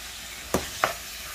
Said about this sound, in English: So just add all your mincemeat in now.